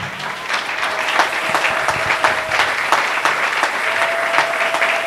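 A church congregation at a Sunday service claps and cheers together in sustained, dense applause that stays steady and loud throughout, with scattered shouts rising above the clapping.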